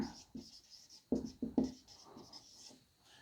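Pen or marker writing on a board during a chemistry lesson, a series of quiet scratchy strokes with a few sharper taps, close and alone without talk.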